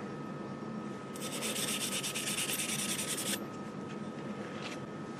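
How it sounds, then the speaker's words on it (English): A brass brush scrubs steel while restoring a Philco Predicta Siesta, producing a steady, close scratchy rubbing that runs for about two seconds before fading to faint, sparse strokes. "Use the brass brush technique."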